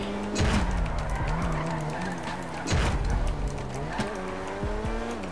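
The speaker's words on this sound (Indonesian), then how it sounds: "Kita coba di lembah kematian ya, sekalian sambil ngedrift." A Mazda RX-7 Veilside drifts in GTA V, its engine revving and dropping in repeated surges while tires squeal in bursts, loud and close throughout.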